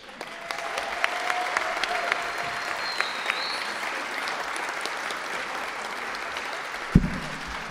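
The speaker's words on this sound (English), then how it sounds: "can we get another wild round of applause for our arts winners?" Sustained applause from the crowd at the 43rd Annual Mayor's Arts Awards ceremony, a steady wash of clapping for the arts winners, with a sharp thump near the end.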